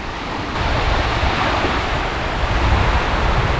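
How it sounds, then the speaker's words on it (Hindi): Sea waves wash onto the sandy beach at Larnaca, Cyprus, a steady broad roar of surf mixed with gusting wind noise on the microphone, with no talk. "ये है समंदर,"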